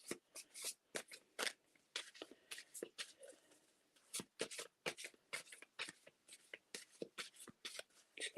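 Reading cards being shuffled by hand during a psychic mediumship session, a steady run of quick riffling bursts close to the microphone, alone with no talk.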